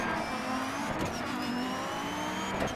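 A race car engine in the rally game Dirt 3 drones and revs steadily at mid pitch, with a continuous close whine and slight shifts in tone as the car accelerates.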